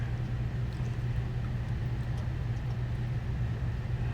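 Mahindra Roxor idling with a steady low rumble and constant hum, close and even throughout, without talking.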